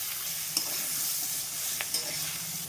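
Fried vegetables hit hot oil seasoned with whole white cumin and radhuni spice, producing a constant close sizzle with a few sharp stirring clicks.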